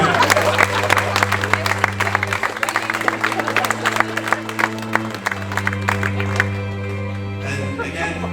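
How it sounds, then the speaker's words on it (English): Wedding guests clap for the bridesmaids at a reception, a lively crowd applause with scattered cheers over steady music in the background, continuing for several seconds. "let's give them a clap"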